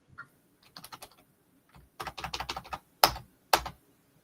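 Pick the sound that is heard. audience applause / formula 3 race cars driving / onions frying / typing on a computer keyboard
typing on a computer keyboard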